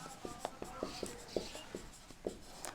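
Pen or marker writing Coulomb's law notes for a class 12 physics lesson on electric charge and field, a steady run of close, light scratchy strokes and taps with no talk.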